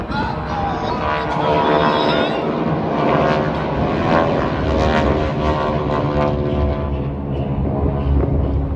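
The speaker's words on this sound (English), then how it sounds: "Now notice that all the planes crossed into each other after the fan." GEICO Skytypers propeller planes fly over an airshow, a loud continuous droning engine roar that swells and fades as they pass, with a voice speaking faintly underneath.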